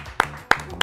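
Three sharp hand claps at a steady, even pace, close and clear over a quiet background, during a Korean investment-themed show.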